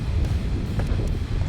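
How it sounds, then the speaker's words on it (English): Gusty wind blowing outdoors near island stairs on a cool day, a steady low rumble of buffeting against the microphone, alone without voices. "It's a little windy"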